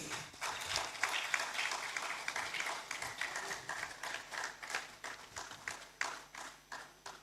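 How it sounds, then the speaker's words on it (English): An audience at a university research awards ceremony applauds an award winner, steady crowd clapping throughout, moderately distant and fairly quiet, with no talk over it. "Let's applaud Professor Edu as he makes his way to take his award."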